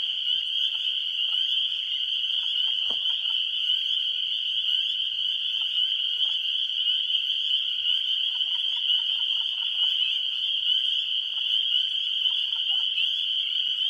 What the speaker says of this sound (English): there's potentially a lot of frogs out here.